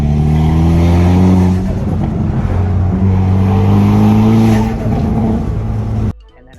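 Hyundai Veloster N with a new blow off valve, driven at low throttle: loud in-car engine drone that rises and falls through gear changes, ending with a sudden drop in sound.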